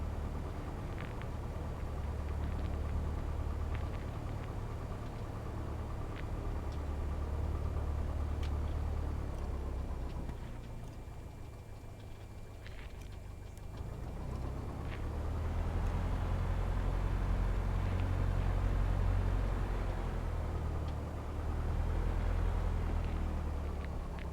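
A single-engine light aircraft, N8033F, holds a steady droning engine run-up in a PilotEdge flight simulator. The drone runs continuously, with a brief dip in level midway before it rises again.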